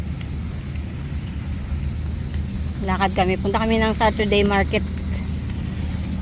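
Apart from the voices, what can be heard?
passing vehicles on a street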